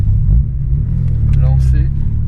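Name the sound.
VW Golf 2 GTI 16V accelerating in first gear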